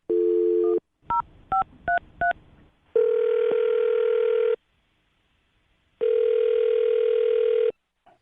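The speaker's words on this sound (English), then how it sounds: "I'm going to dial her phone number right now" Touch-tone phone dialing a number: a steady dial tone, then a quick run of distinct keypad beeps, followed by two longer tone bursts separated by a pause, all close and clear with no voices.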